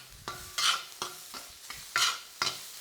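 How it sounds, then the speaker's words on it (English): Egg fried rice with prawns and char siu being stir-fried in a hot pan, with rhythmic scraping, tossing strokes and bursts of sizzle repeating about every half second, close and fairly quiet. "Keep folding that through nicely."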